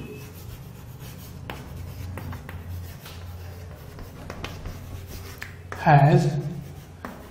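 Marker or chalk strokes scratch across a board during a physics lecture, soft scraping under a male lecturer's steady speech, with one louder, brighter stroke burst near the end.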